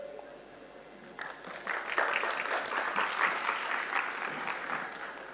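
A crowd at an event launching a WhatsApp chatbot for Aam Aadmi Clinics breaks into applause for more than 30 health organizations, starting abruptly and holding steady, moderately loud and sustained for several seconds.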